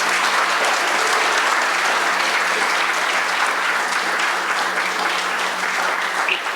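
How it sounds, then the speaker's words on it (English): Audience applause at a legislative food policy event, a dense, loud, continuous clapping from a full room that holds steady for several seconds. "I want to ask all of you to give a heartfelt applause"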